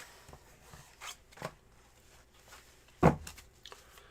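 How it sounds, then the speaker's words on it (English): Tarot cards are shuffled in a series of brief crisp riffles and snaps, spaced irregularly with one sharp louder burst, close and otherwise quiet. "here are your 10 official shuffles"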